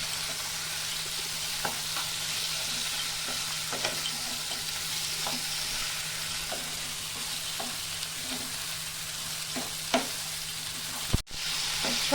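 Potato, rice, spices and a katla fish head fry together in a pan with a steady close sizzle, broken by occasional scrapes and taps of a stirring spoon and a louder knock near the end.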